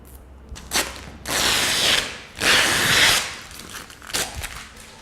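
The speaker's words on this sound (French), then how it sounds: "il suffit d'attraper le fil comme ceci et de tirer" Knifeless cutting tape filament pulled through vinyl wrap, two long, loud rasping tears about a second each, close up, with shorter scratchy pulls before and after.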